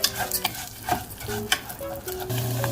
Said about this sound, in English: So you fry the rice until it turns brown.